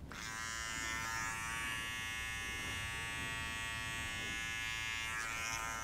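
An electric hair clipper used for lining up hair buzzes steadily and close by, a continuous high-pitched whir with small dips in intensity as it moves, and no voices over it.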